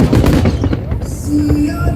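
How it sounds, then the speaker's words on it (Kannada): Fireworks at a display in Hong Kong go off in loud, rapid bursts of booms and crackles heard close up, with crowd noise and voices beneath. "ನಿಮಗೆ ಸೌಂಡ್ ಕೇಳ್ತಾ ಇರ್ಬೇಕಲ್ಲ, ಪಟಾಕಿ ಸೌಂಡ್ ಎಲ್ಲ ಕೇಳ್ತಾ ಇರ್ಬೇಕಲ್ಲ"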